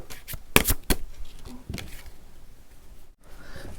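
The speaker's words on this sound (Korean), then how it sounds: "이 관계에 대한 조언 카드를 한번 뽑아볼게요" Tarot cards are shuffled close up: a few sharp riffling bursts at first, then softer sliding and flicking as cards are drawn.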